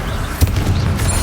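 Bombarda blasting spell going off in Hogwarts Legacy, a loud, deep booming burst with a short rumbling tail, brief and punchy.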